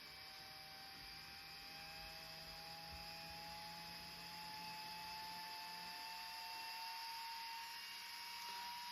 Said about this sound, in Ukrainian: кулер підніме зараз свої обороти